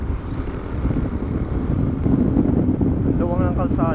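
Steady wind rush buffets the microphone during a motorcycle ride on a winding road near Patapat in Ilocos Norte. A rider's voice briefly joins near the end.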